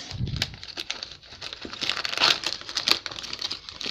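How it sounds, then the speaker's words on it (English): Oreo cookies dropped into a plastic Ziploc bag make close, crisp crinkling and crackling that rustles steadily throughout, with sharper crackles toward the end and no talking. "put them in a Ziploc bag like this"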